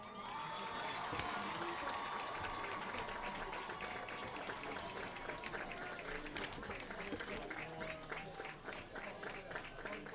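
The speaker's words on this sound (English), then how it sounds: "Let's give one more round of applause to this year's court." A dense, steady wave of audience applause for a high school homecoming court at a football game, many hands clapping continuously for ten seconds with crowd cheering mixed in.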